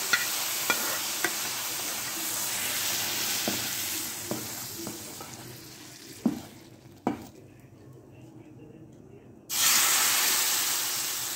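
Hot fried garlic tasha for lentil soup gives a steady close sizzle and hiss. A few soft clinks of a spoon cut through it, and a louder rush of sizzling breaks out near the end as it hits the soup.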